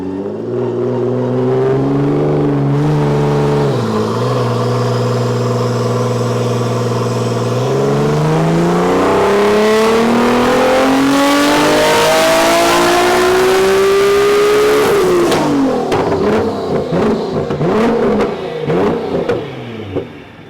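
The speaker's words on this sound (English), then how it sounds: "Prepping the car, and now it's on the dyno." A Nissan GT-R on a dyno, being tuned on ethanol, holds a steady loud drone, then revs up in one long sustained climb and cuts off sharply, followed by lighter engine burble and rattling.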